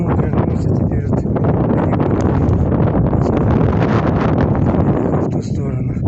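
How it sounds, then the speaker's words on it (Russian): Strong wind buffets the microphone on a mountain walk, a constant loud rumbling roar with gusty flutter throughout, while someone talks over it. "Ветер прямо в харю, а я шпарю."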